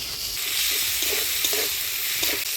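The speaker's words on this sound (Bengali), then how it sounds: "টমেটো দিয়ে নাড়াচাড়া করে নিলাম" Chopped tomatoes are stirred into a pan of frying ground spice paste of coriander, cumin, ginger, chilli and turmeric for a Bengali fish curry, giving a steady close sizzle with soft scraping strokes throughout.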